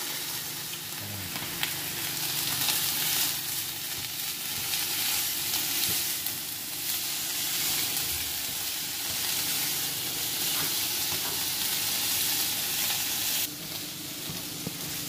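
Coarsely chopped onion fries in a pan for beef teriyaki, a loud, continuous sizzle and hiss that holds steady throughout, with occasional stirring noises.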